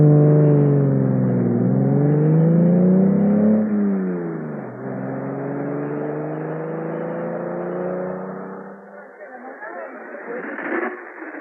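A classic sports car pulls away in first gear, its engine revving upward in a rising, close, loud whine before settling, with a brief change in pitch as it accelerates off.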